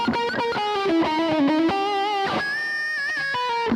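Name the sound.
guitar with big reverb effect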